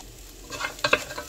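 Ivy gourd being stir-fried in a pan, with a soft sizzle building as a few clear scrapes and tosses of the stirring utensil clatter close by, no voices.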